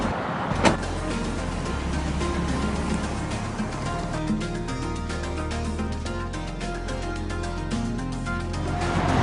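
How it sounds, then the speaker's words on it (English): Car interior during a short ride, with a continuous low engine and road rumble, a sharp thump near the start like a door or bump, and steady cabin noise throughout with no talking. "Let's go take a little ride to see David Pelletier"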